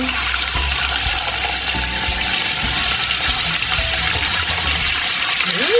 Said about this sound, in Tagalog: unahin ko na muna iprito itong bacon